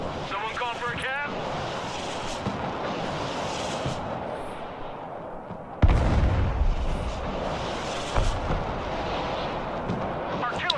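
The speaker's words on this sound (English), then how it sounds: "I got artillery firing as well on it" Artillery fire in the military strategy game Broken Arrow: rumbling booms and bursts sit under steady battle noise, with a heavy low thump near the middle and another a couple of seconds later, over a dense layered soundscape.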